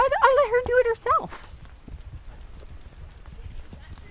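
Horse hooves clip-clop on a trail ride, a soft steady walking rhythm heard after a burst of speech and voices at the start.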